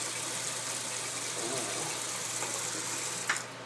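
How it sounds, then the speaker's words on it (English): Water runs steadily from a tap in a continuous hiss that lasts throughout, with a faint knock near the end. "Turn the water off"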